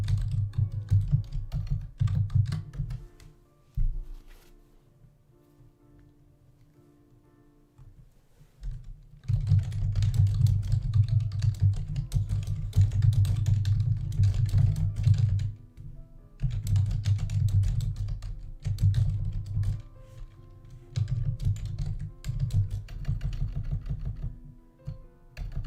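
Computer keyboard keys typed in rapid, steady bursts close to the mic, with a quiet pause in the middle before the clattering resumes and continues in long runs with brief gaps.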